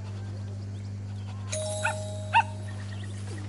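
A dog in the video game Alba: A Wildlife Adventure gives a couple of short, soft yips and whimpers over a steady electronic hum, close and fairly quiet, with no talking.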